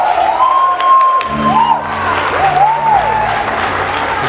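A church congregation applauds for Heloísa, a sustained, dense wash of clapping under a faint tonal hum and a few whoops, steady and fairly loud throughout.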